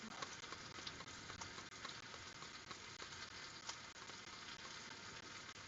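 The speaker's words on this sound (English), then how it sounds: "that's a not bad little sizzle. It's a sizzle, but it's like slow sizzle." A steady, soft sizzle of raw frozen chicken frying slowly in oil in a pan on low heat, continuous crackling and popping at low volume with no talking.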